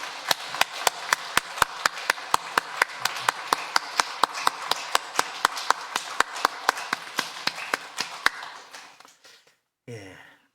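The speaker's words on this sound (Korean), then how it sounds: "우리도 힘찬 박수로 영광 돌리겠습니다." Church congregation at a Sunday worship service clapping in unison, sharp regular claps at a brisk steady beat with a murmur of voices beneath, stopping before a brief spoken word at the end.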